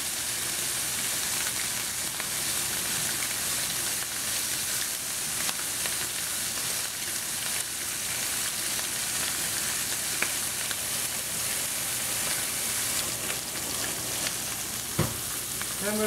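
Shrimp frying in a hot pan, a steady close sizzle with a loud broadband hiss throughout and occasional stirring clatter near the end.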